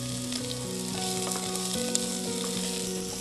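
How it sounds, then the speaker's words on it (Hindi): Onions fry in oil with mustard seeds and curry leaves, a close, steady sizzle with faint crackles and pops throughout, no speech. "अब ये प्याज ना थोड़े से हल्के से ब्राउन करने हैं मुझे"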